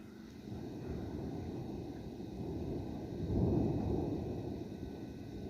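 Thunder rumbles through the mountains and valleys around Show Low, Arizona during an evening rainstorm, a low, steady roll that swells to a deeper peak midway before easing off, with no voices over it.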